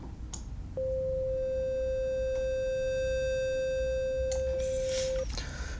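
A steady sine-wave tone from a synthesizer oscillator in FL Studio, held for about four and a half seconds with a clean, unwavering pitch, then cut off. A few brief clicks and a faint background hum sit around it.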